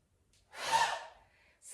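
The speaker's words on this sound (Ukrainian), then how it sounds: "Ще раз робимо вдих." A single deep inhale during yoga breathing, a soft airy rush of breath drawn in close to the mic, rising and fading over about a second in otherwise quiet surroundings.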